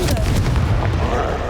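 A Confringo fire-blast spell from the video game Hogwarts Legacy bursts in a short, loud boom with a crackling tail, a quick blast heard alongside in-game sounds.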